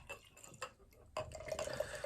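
A canned IPA from Deya Brewery is cracked and poured into a glass: a few faint clicks and handling noises, then a soft fizzing, trickling pour that grows slightly louder near the end.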